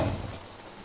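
Paneer with papaya paste sautés in a pan, giving a soft, steady sizzle with faint crackling, close and fairly quiet, with no voices over it.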